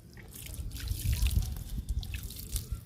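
Water is poured onto freshly planted mint cuttings in a tub, giving a soft, close trickle and splash that swells in the middle and continues at low volume.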